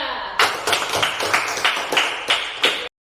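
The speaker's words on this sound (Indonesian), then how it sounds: "Kita berikan tepuk tangan untuk kelompok 3." A classroom of students claps for a group in a Catholic religion lesson, giving about eight distinct, evenly spaced bursts of rhythmic unison clapping, close and loud, ending abruptly.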